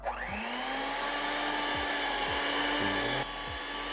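An electric mixer whirs steadily as eggs are beaten into Oreo cake batter, a close, continuous motor drone whose pitch wavers slightly and shifts briefly near the end.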